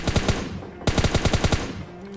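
Rapid bursts of gunfire in PUBG Mobile Lite, two volleys of loud, evenly spaced shots with a brief pause between, fairly close and with no talk over them.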